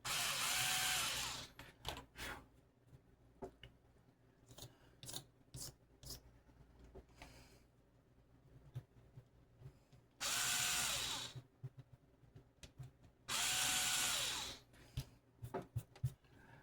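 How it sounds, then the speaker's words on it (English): A power drill bores holes for DIY side dots in three loud bursts of a few seconds each, separated by quieter stretches of clicks and handling noise. "we got 3 holes drilled"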